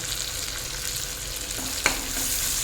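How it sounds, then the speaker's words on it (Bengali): Chopped onion and sliced green chilies frying in hot mustard oil, a steady bright sizzle with a brief clink of a utensil stirring the pan near the end. "এখন এই তেলের মধ্যে দিয়ে দেবো কুচনো পেঁয়াজ আর সঙ্গে দেব কাঁচা লঙ্কা ফালিগুলো"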